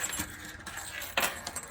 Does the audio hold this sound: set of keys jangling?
yes